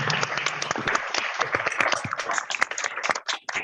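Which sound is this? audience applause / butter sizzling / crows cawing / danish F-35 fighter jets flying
audience applause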